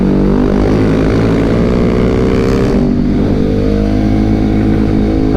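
A 2022 KTM RC 390 motorcycle ridden hard on a racetrack, its loud engine droning steadily at high revs with pitch shifts as it accelerates and changes gear, heard close without speech.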